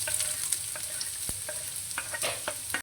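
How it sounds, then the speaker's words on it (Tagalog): Onion, garlic and carrots sautéing in a pan, a steady near sizzle broken by a few sharp spatula clicks and scrapes, brief and without talk. "igigisa natin ang ating sibuyas. Kasabay na natin ang ating bawang."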